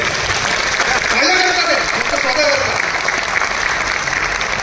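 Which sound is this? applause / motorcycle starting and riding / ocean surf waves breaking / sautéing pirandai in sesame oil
applause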